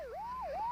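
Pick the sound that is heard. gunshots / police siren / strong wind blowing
police siren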